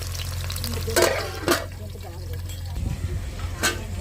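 Ground onion and tomato masala for mutton pulao being stirred in a hot pan, soft sizzling with a few clear scraping strokes of a spoon against the pan, close, under a person talking.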